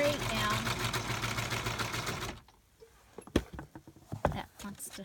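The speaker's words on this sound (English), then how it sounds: "I'm going to do them on a straight stitch, and I'm just going to stitch them straight down." A sewing machine runs a continuous straight stitch down a fabric book cover, a steady dense whir that stops midway, followed by quieter handling clicks and taps.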